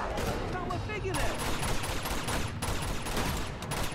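Shotgun blasts from the video game Uncharted 2: Among Thieves, loud and close in a chaotic firefight, several sharp bursts over continuous battle noise with a voice talking over it.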